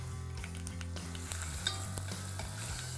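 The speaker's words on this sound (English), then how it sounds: "Let's saute this." Garlic and ginger sauté in a hot pan with a steady, close sizzle, broken by scraping and clinking as a utensil stirs them.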